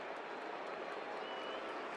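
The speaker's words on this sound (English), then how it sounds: "Been a quiet Yankee Stadium trying to cheer Mussina on here" A Yankee Stadium baseball crowd cheering and applauding steadily through a full-count pitch against the Red Sox, a dense, continuous wash of distant voices and clapping with no single voice standing out.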